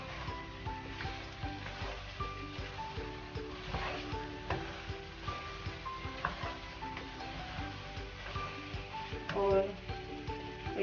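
Spices frying in a pan for a mutton curry, a steady soft sizzle running throughout with scattered clinks and stirring scrapes, moderately close and fairly quiet.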